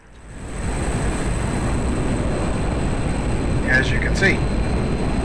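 Steady roar of a MiG-21 jet at full throttle pulling up in the flight simulator DCS, a loud continuous rumble under a voice.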